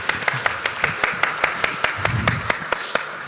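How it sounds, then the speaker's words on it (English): Applause at an international museum and heritage forum: sparse, distinct hand claps ring out at a fairly even pace for a few seconds, with a low murmur of voices in the background. "Please give applause to the whole speaker in the stage."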